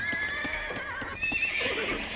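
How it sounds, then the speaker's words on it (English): Horses in Age of Empires II neigh and whinny repeatedly over a steady rhythm of clip-clopping hooves, loud and continuous with several overlapping calls. "Sorry for all the noise of the horsies. They like to go neigh."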